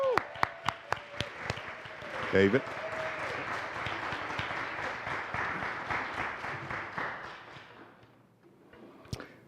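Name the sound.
audience applause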